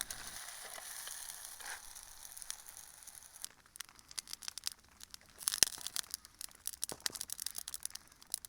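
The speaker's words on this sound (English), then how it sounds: "I will use just the frying pan here and make some fresh bread" Fresh bread frying in a frying pan at a rainy wild camp at Loch Dochard, a soft steady sizzle with sharp crackles and pops that grow busier toward the end.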